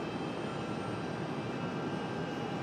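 Frontier jet airliner taking off from runway 23 right at Raleigh-Durham International, a steady broad engine roar, loud and continuous with no talk.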